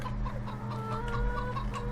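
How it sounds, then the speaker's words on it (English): Chickens cluck in a steady, overlapping chorus inside the Farming Simulator 15 farming game, played with the Gifts of Caucasus map, over a constant low hum of game ambience with no voices. "What an organized bunch of chickens"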